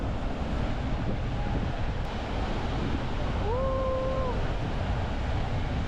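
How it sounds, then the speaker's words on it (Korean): Ocean waves breaking on a cold beach with surf large enough for surfing, a steady loud wash of surf and wind that fills the whole stretch, with a faint tonal whistle partway through. "그 서핑을 타기에 예쁜 파도는 아닌 건가? 그러니까 막 부서지는 느낌이랄까?"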